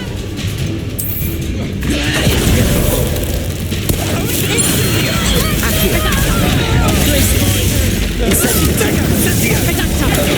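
Reductor blasting spell explosions in Hogwarts Legacy, a continuous loud wash of crashing, rumbling impacts lasting several seconds, with a faint voice in the background.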